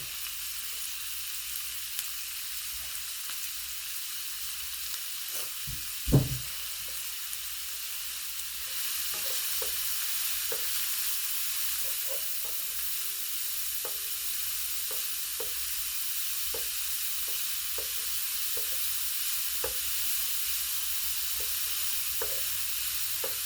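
Mushrooms fry in a little oil for a crab omelette, giving a steady soft sizzle with occasional clicks and one sharp knock, no talking.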